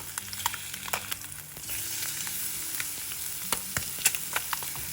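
Egg snack sizzling in oil in a frying pan, a steady close crackle with scattered sharp pops and spits throughout, growing slightly denser after the first couple of seconds.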